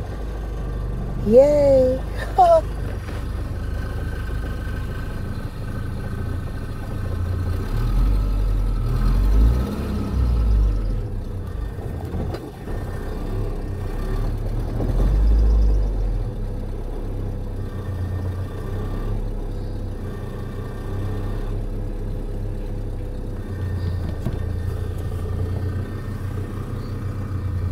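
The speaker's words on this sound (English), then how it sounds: "I think I have it idling." An old car engine idles steadily after being cranked, a low, even rumble running throughout with small swells, while a voice cheers briefly near the start.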